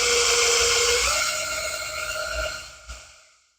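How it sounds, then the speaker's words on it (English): A power drill whirs steadily while twisting metal wire into a TIG welding filler rod, its pitch shifting partway through, then winds down and stops, leaving silence. "our drill on the other, and we're just going to twist it."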